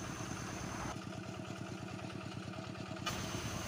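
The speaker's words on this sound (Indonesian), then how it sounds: "Jadi udah beralih ke mesin traktor seperti ini." A tractor engine ploughs a rice paddy, giving a steady, chugging mid-pitched drone with a regular pulsing rhythm. It runs continuously and fairly close throughout, with no talk over it.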